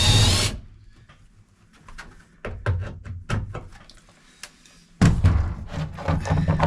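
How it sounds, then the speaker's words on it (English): A power tool working bolts loose on a 2004 Nissan Frontier tail light, quick ratcheting clicks and short bursts of whirring in irregular spurts, with a louder stretch of tool noise toward the end. "I think these are the 2 bolts I need to pull out."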